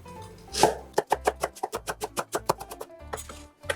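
Half an onion chopped with a knife on a board: a quick run of sharp, evenly spaced chops, about a dozen in a row, close and crisp, with a brief pause before a few more strokes.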